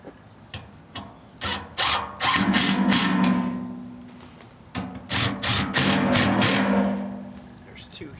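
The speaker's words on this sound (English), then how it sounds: "just going to use the drill to do that" A power drill whirs loud and close, first in several short bursts, then in longer sustained runs as bolts are driven tight on a Honda clone generator tank.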